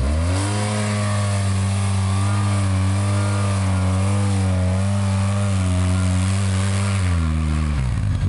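A new ATV engine being broken in revs steadily for several seconds, a loud close droning hum that rises and dips slightly in pitch before dropping off at the end, with no voices.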